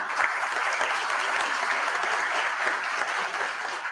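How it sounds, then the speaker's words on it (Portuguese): An audience at a formal inauguration ceremony applauds in a dense, continuous wash of clapping that holds steady for the whole stretch. "Senhoras e senhores, podem aplaudir."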